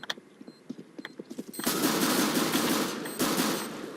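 A CS:GO match opens with a series of separate sharp shots, then breaks into a sustained loud burst of automatic gunfire that pauses briefly and resumes, close and dense.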